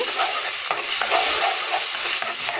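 Hot oil sizzling loudly and steadily in a pan, heating up before Alexandrian-style liver goes in, a dense continuous hiss with small crackles and no voices.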